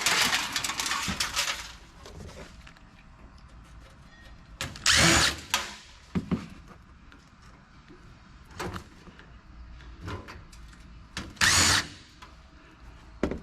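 A power screwdriver backs screws out of a scrap computer case in several short close whirring bursts, separated by clicks, rattles and handling of the metal housing, with no talking.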